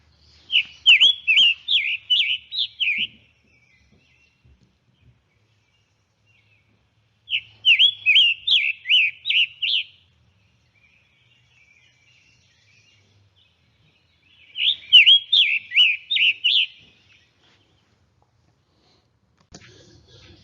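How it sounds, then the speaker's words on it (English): Scarlet tanager song in a Kentucky forest: three separate bursts of burry, raspy, robin-like phrases, each about two to three seconds long, spaced by silent gaps, clear and fairly close with no talking. "think of the scarlet tanager song as a robin, but it's got a sore throat because it's got a burry,"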